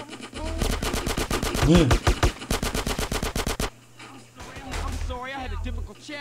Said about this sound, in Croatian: 47 je najbolja puška u igrici.